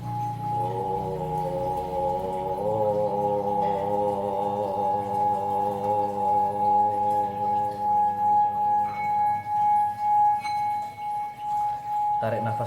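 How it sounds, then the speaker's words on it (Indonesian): A gong struck during a guided breathing meditation rings out in a long sustained tone with layered shimmering overtones, slowly pulsing and decaying over about twelve seconds, with a faint fresh strike near the end. "Gongnya itu sampai suaranya habis,"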